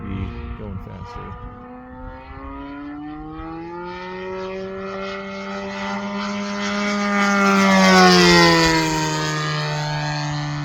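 Hangar 9 20cc gas-powered P-51 Mustang RC airplane flying, its engine a steady droning buzz that rises in pitch and swells louder as it passes close overhead, then eases slightly away.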